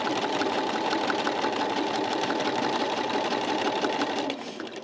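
A sewing machine quilts straight lines along a seam, running in a steady fast whirring hum for several seconds before easing off at the end.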